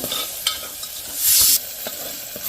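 Onion frying with salt and turmeric for a village-style goat intestine fry, stirred with a spoon: steady sizzle with clanks and scrapes, and a brief louder hiss burst midway.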